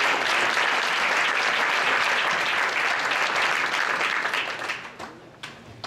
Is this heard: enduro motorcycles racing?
no